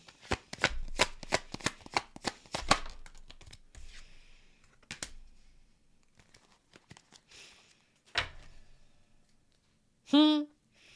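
Tarot cards shuffled and drawn for a reading, a fast burst of close riffling snaps followed by softer card slides and taps, then a voice speaks briefly near the end.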